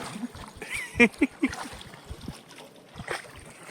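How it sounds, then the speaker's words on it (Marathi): Rowing boat on a quiet river in Ninh Binh, Vietnam, with a few close splashes and knocks of oars dipping into the water in a loose rhythm, then softer lapping. "अखेर दोन तासाचं बोटिंग पार पडलेलं आहे"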